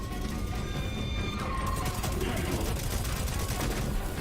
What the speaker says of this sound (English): I love the smell of gunfire.